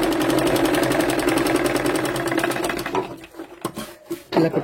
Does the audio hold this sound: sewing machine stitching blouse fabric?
yes